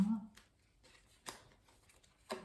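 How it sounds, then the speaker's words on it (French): Tarot cards are dealt one at a time onto a table, three crisp soft slaps spaced about a second apart, close and quiet with little else around. "je vais mettre quelques cartes"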